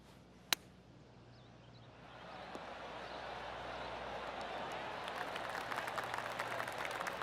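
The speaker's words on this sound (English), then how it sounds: "Golf clap." Polite golf clap from spectators at the Genesis Invitational swells softly after a brief sharp knock, a faint, distant patter of scattered hands that continues steadily to the end.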